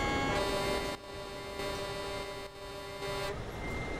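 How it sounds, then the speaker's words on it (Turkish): A truck horn in Euro Truck Simulator 2 sounds a steady, loud tonal blast that cuts off briefly twice before ending, set over a constant engine hum with no talking. "Şöyle size kornamı da bir öttüreyim."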